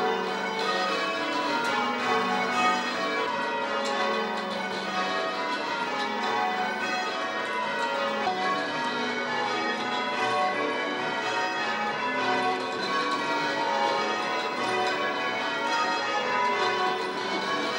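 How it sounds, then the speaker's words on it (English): Church bells in a tower built by William Cubitt ring continuously with overlapping tones, steady and moderately distant, with no talking. "So the builder who built this church, William Cubitt, clearly thought that bells were an important thing."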